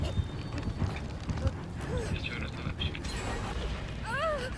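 A generator under repair in Dead by Daylight gives off a rapid run of mechanical clicks, ratcheting and gear-like clatter, with a few high chirping tones over a busy, mid-level mechanism noise.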